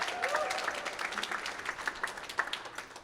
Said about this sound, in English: We could do a round of applause for all of their hard work.